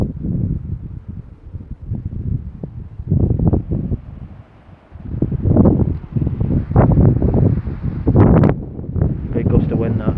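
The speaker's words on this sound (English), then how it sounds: "Big gust of wind, that." A big gust of wind buffets an outdoor microphone in Wardle Village, a loud rumbling roar that swells and fades over several seconds, with someone talking across it.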